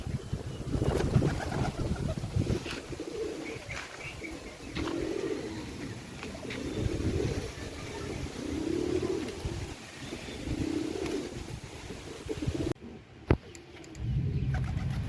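Pigeons coo repeatedly up close at a pigeon market, soft throaty rolling calls overlapping in a steady rhythm over a rough background murmur.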